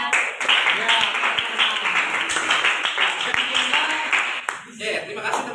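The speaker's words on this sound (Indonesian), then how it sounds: "terima kasih tepuk tangannya dan ribetnya dari kalian semuanya untuk kelompok 2 ini" Applause and clapping from a classroom of students for group 2 after a presentation, a dense, steady patter of many hands with voices talking through it, fading out near the end.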